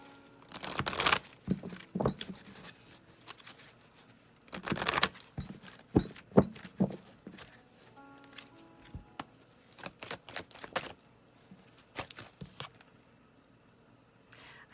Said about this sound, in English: Shuffle again.